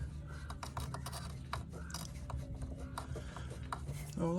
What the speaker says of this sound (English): These little ratchet wrenches are really good for stuff like this.